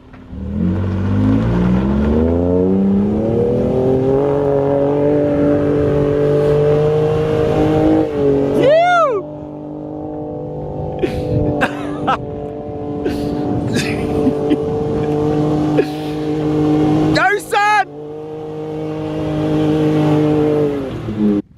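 A 2018 Ford Raptor cruises slowly over Dubai desert sand, its engine droning loud and close with a few revving swells, while people talk over it.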